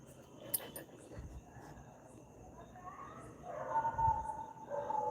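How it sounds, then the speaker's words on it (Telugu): A dog barks somewhere at a distance, giving a few faint, scattered barks against a quiet household background with some soft voices and movement. "అమ్మా కుక్క మరుగుతుంది ఎక్కడో."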